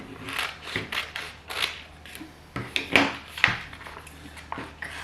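Scissors snip through a vinyl shape for a craft gift, a string of close, crisp cutting strokes in an irregular rhythm with quiet speech underneath.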